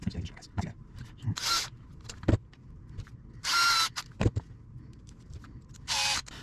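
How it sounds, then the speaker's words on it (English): A power drill drives bolts into the differential cover of a Traxxas TRX4/TRX6 RC truck in three short whirring bursts, separated by quiet pauses with scattered clicks and handling noises. "for the quickness of this video, I'm putting them in with a drill."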